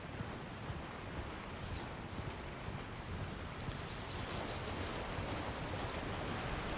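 In the Elden Ring video game, a waterfall gives a steady, dense rushing roar that fills the whole clip at an even level, with a few faint brief clicks on top.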